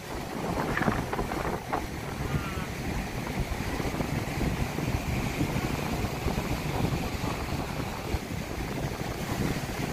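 Rough sea waves at Boracay beach, Station 2, during low tide, a constant roaring wash of surf mixed with heavy wind buffeting the microphone, loud and unbroken throughout.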